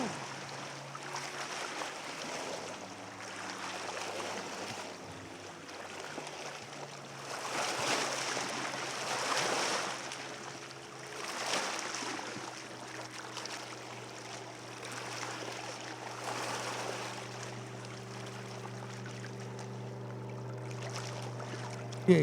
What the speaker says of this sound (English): Spectator boats coming through right now.